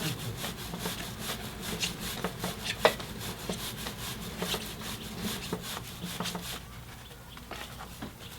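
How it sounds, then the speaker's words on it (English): Rhythmic brush scrubbing along the sides of a Honda CBR 250R motorcycle chain soaked in kerosene, quick back-and-forth rasping strokes, close and moderately quiet, easing off toward the end. "I then scrub both sides as well."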